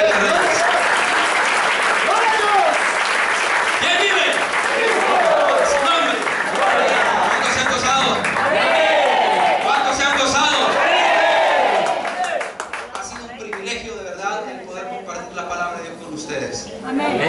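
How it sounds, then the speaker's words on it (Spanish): A church congregation claps and cheers loudly and steadily at an anniversary service, a dense wash of applause that thins and fades toward the end while voices rise through it. "Dele palmas al Rey"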